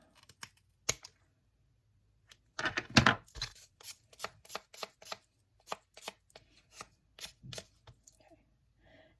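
Scissors snip cane while trimming a bassoon reed, making a scattered series of sharp, close clicks and cuts, with a brief word spoken partway through.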